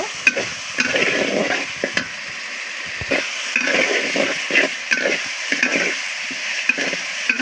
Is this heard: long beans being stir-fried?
yes